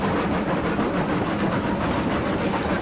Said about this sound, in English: I'm kind of curious as well how well this train handles it